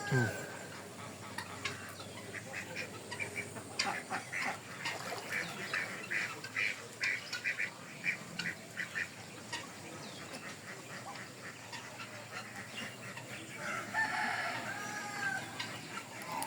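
Ducks quack in repeated bursts amid a busy poultry yard, with other fowl clucking and calling nearby, fairly close and continuous.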